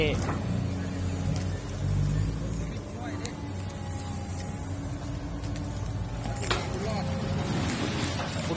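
A six-wheel truck's engine draws near in Thailand, a steady low rumble rising slightly as it approaches, with people talking over it.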